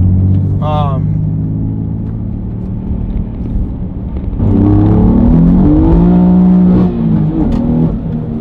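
A BMW drift car engine revs and rumbles up close, the pitch rising and falling through several surges, with a steady idle drone underneath.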